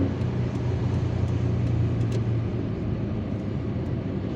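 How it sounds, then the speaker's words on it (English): Steady low engine and road rumble from inside a car overtaking another vehicle on a road in Algiers, a constant drone with a few faint ticks above it. "I'm overtaking this car."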